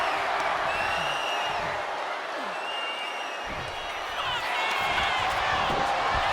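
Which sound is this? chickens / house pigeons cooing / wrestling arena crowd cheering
wrestling arena crowd cheering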